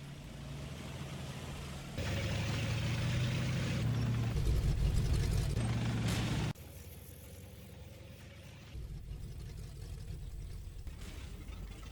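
Sherman tanks driving forward in the Combat Mission: Fortress Italy game produce a mid-pitched engine drone that steps up louder, holds, then drops back to a lower rumble, with no talking.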